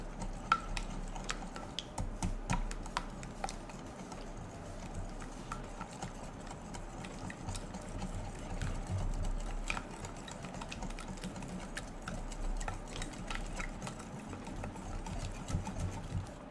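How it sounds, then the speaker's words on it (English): Fresh eggs are whisked by hand in a bowl until smooth for a Dutch baby batter, a fast, continuous rattling tick of the whisk against the bowl, steady and close, with no talking. "So now we're gonna whisk that until it's smooth."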